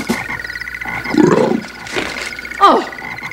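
A cartoon toad croaks in several throaty bursts over a bed of background music, the loudest near the middle and a sharp rising croak near the end.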